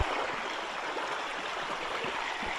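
Continuous rushing water of a flowing stream, a steady broadband splash and gurgle close by with no voices.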